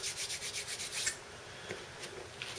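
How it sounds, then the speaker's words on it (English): A hand-shaped sandstone block rubbed firmly against an animal skin to soften it, giving a rapid series of close, rhythmic scraping strokes that then slow into a few separate rasps. "You just push it against the skin and rub."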